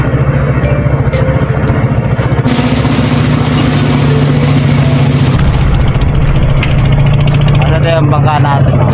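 Large passenger bangka boat that holds about a hundred people, its engine droning steadily at idle throughout, loud and close, with voices talking over it.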